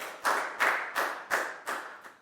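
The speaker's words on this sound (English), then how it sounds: "High five and a big round of applause for Down," Classroom clapping for a Year 4 student: about six slow, evenly spaced hand claps, each with a short ringing tail, fairly near and without talk.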